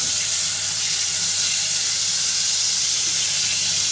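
Butter sizzling in a very hot pan while making a fisherman's pie, a steady, loud hiss that holds evenly from start to finish with no talking.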